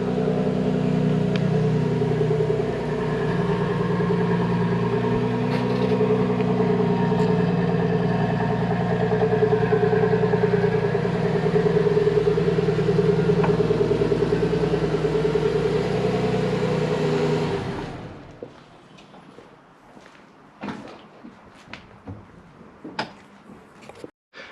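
A 1995 Nissan R33 Skyline GTS-T, converted to non-turbo, idles with a steady low rumble for most of the stretch before the engine note cuts out, leaving quieter scattered knocks and clicks.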